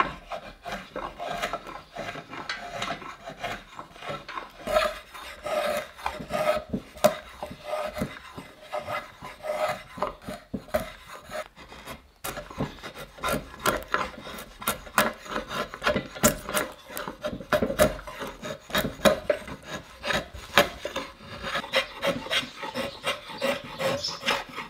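Hand tool scraping and rasping wood while thinning the back of a Pacific yew self bow, a steady run of close, repeated rubbing strokes with no talk.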